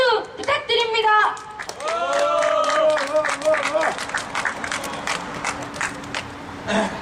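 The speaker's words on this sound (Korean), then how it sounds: "큰 박수 부탁드립니다." An audience at an outdoor Labor Day eve candlelight rally claps and cheers for a few seconds, with voices rising over the crowd noise.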